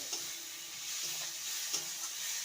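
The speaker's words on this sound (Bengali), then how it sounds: "এবার ভেজে রাখা আলুর টুকরোগুলো দিয়ে দেবো ভালো করে নেড়ে নিয়ে" Fried potato pieces are stirred into a banana flower curry in a pan, giving a soft, constant sizzle broken by several quick scraping strokes of the spoon, close and quiet with no talk.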